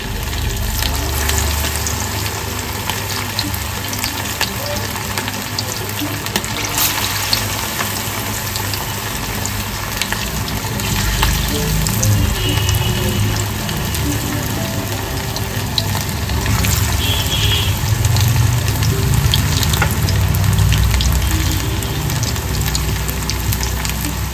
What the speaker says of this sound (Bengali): আর ওই লো ফ্লেমেই এক এক করে আমি চিকেন গুলোকে ছেড়ে দেবো।